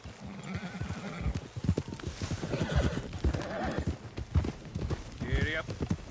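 A horse in the video game Red Dead Redemption 2 clip-clops along at speed with a loud whinny, hooves close and rhythmic, heard under in-game dialogue and other game sound.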